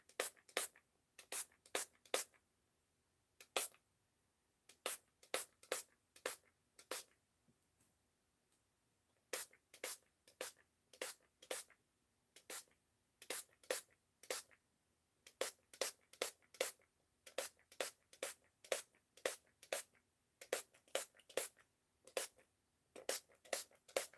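Quick bursts of a spray bottle hiss in clusters, with short pauses between groups, close and fairly quiet.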